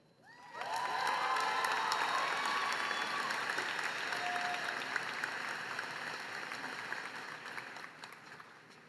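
Sustained applause from a large audience at a college commencement ceremony swells in after a brief quiet start and holds steady for several seconds, with scattered cheers mixed into the dense clapping.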